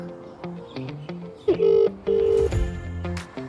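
A telephone rings in several short electronic tone bursts, with quieter ringing patterns at the start and two longer, louder rings in the middle, heard alone without speech.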